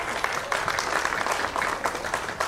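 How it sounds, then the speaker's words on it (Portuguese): A crowd at a cultural diversity forum in Brazil claps steadily, dense and fairly loud throughout, with a few louder individual claps standing out. "Aplausos, com força"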